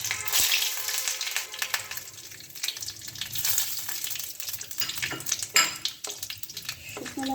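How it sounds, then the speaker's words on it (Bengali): Dried red chillies and nigella seeds crackle as they temper in hot oil left in a kadai after frying potatoes, a steady bright sizzle with scattered pops and brief utensil clinks. "এবার আমি কড়াইতে যে তেলটা আছে তার মধ্যেই আমি শুকনো লঙ্কা এবং কালো জিরে ফোড়ন দিয়ে দেবো।"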